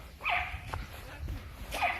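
A dog out on a walk gives two sharp barks, the second following about a second and a half after the first, with faint yips and whimpers between them.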